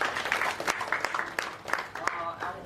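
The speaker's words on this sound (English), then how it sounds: "Let's give a round of applause to our..." An audience at a theatre event claps a round of applause, sharp scattered claps heard fairly faintly under a person still talking.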